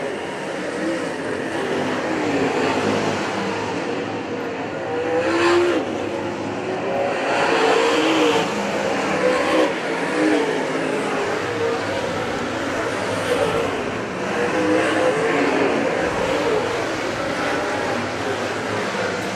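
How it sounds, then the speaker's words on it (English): Late model race cars roar steadily around the track during the Merritt feature, a continuous engine drone with passing surges while a commentator talks over it. "Both those cars keeping to the bottom side of the racing surface."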